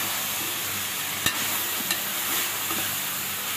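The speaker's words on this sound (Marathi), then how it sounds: "हे छान आता आपण मिक्स करून घेऊया." Stirring a potato and tomato curry seasoned with chili powder in a pan, a soft continuous scraping and gentle sizzle with a few sharper spoon knocks, close and steady with no talking.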